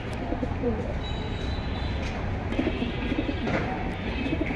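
Pigeons at a bustling pigeon fair coo repeatedly and softly over a dense crowd murmur, with people talking nearby and scattered chirps from other birds.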